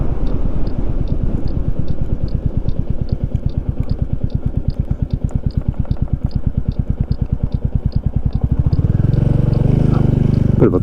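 Royal Enfield Classic 350 motorcycle riding, its single-cylinder engine thumping in a steady, even beat close and loud, then opening up into a rougher roar near the end, with wind noise and no talk.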